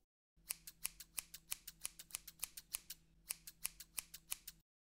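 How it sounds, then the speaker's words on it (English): Rapid, crisp snipping of scissors cutting hair, about twenty quick cuts in an even rhythm, close and clear with no talking. "let me get my scissors"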